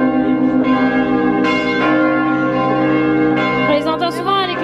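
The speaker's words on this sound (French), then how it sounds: "On les entend souvent les cloches nous à la maison." Church bells ring out loudly and continuously, their overlapping tones sustaining and restriking several times without pause.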